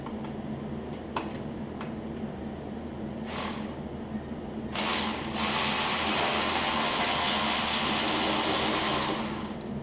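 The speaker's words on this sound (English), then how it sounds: "So I'm just going to take these intake bolts off." Intake bolts are loosened on a Briggs & Stratton V-twin engine on a Cub Cadet zero-turn mower. Scattered clicks and taps give way to a longer, close burst of ratcheting or power-tool whir, with no talk.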